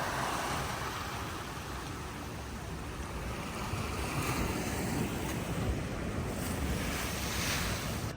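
Ocean swells and surf wash steadily beside a docked cruise ship at a Royal Caribbean port, a continuous broad roar with gusts of wind buffeting the microphone and no voices.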